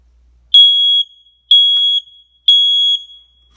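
An SA68 smoke detector alarm sounds three loud, shrill beeps, each lasting about half a second, evenly spaced a second apart with nothing else heard.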